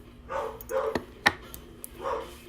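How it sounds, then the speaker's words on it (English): A big dog barks a few times in the background of a room, the woofs moderately loud and spaced out, with faint speech-like sounds around them. "Y'all can hear my big dog."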